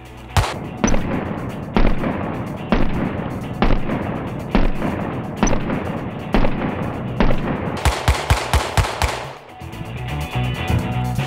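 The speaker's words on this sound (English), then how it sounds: "Let's do a mag dump because it's really awesome in these ammunition-rich times to just dump ammunition." A 9mm concealed-carry pistol emptied in a magazine dump: loud, close shots fired steadily one after another, ending in a faster cluster of rapid shots, with no talking.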